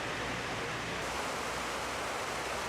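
A constant broadband rush of falling water from the artificial waterfall at the former World Trade Center site in New York roars steadily throughout, with no breaks or other distinct sounds.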